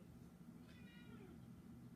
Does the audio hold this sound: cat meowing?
yes